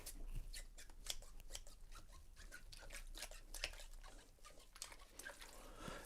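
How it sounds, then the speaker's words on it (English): Scissors are washed up in a sink, with faint clinks and metallic snips over splashing and dripping water, quiet and close. "Scissors."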